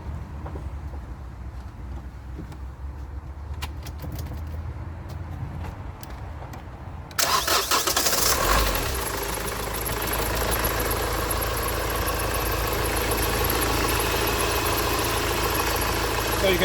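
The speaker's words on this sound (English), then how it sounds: "I will try and crank the engine and see." A car engine cranks under a low rumble, then catches abruptly and settles into a loud, steady idle close by.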